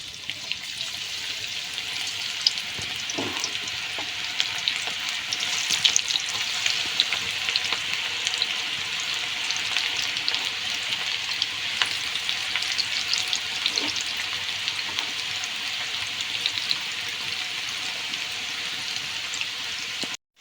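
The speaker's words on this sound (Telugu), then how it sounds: "నూనె వేడెక్కింది, పకోడీ వేసుకుందాము." Onion pakodi deep-fry in hot oil in a kadai, a continuous close bubbling sizzle with crackling spatters and occasional soft knocks, no voices.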